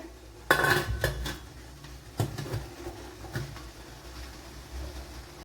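A metal lid is set onto an idli steamer pot loaded with batter, sounding as a sharp clatter followed by a few lighter clinks and rattles, close by in a quiet kitchen.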